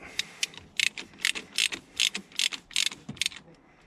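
Ratchet of a socket wrench clicking in quick bursts on a nut of a BMW E83 X3, fitted with a 12-point socket standing in for a 36mm impact socket; close, crisp and fairly loud with short pauses between strokes.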